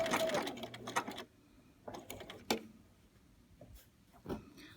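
A sewing machine stitches applique around a curve on fabric in short bursts of quiet mechanical whirring, separated by pauses and faint clicks.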